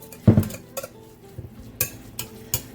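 A spoon stirring salt and black pepper into a chicken-veggie lasagna sauce in a pot, giving a few sharp metallic clinks and scrapes spaced irregularly, with quiet gaps between.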